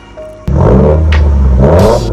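A pre-owned 2019 Subaru WRX revs close and loud: a low idle rumble jumps into a strong, sustained exhaust roar that swells again near the end.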